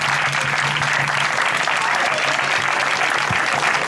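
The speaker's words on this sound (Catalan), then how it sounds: "demane un aplaudiment" Sustained applause from an audience at an outdoor summer evening gathering, La Canyada, a dense continuous wash of clapping at steady loudness throughout, with a faint voice or tone underneath.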